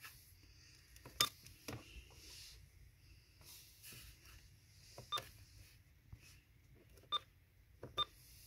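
Several short electronic beeps from the keypad of a Uniden BC365CRS scanner sound one at a time, spaced unevenly, over a quiet hiss with faint handling noises.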